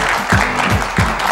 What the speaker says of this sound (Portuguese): Uma salva de palmas para ele, André.